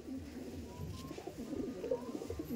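A pigeon gives soft, rolling coos, faint but continuous, with no voices over them.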